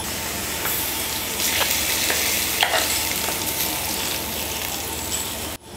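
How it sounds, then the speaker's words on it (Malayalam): Mustard seed tempering sizzles loudly as it is stirred into a Kerala-style theeyal curry in a pan, a steady, close hiss with scraping and bubbling that cuts off abruptly at the end. "ഇപ്പം കടുക് താളിച്ച് ചേർത്തിട്ടുണ്ട്."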